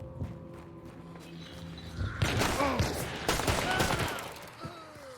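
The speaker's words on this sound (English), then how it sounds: "Nice shooting, Tex." A hunting video game fires off a rapid volley of gunshots after a quieter stretch, the sharp cracks crowding together over a rumbling game background with faint echoes.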